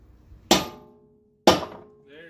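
Two sharp, loud metal hammer strikes about a second apart ring out against a front strut part on a 2006 Dodge Magnum, each decaying quickly, with a brief voice at the end.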